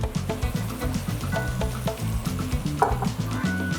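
Turkey chili mixture with ancho chili sizzling and being stirred in a pot, loud close crackling with repeated scraping strokes.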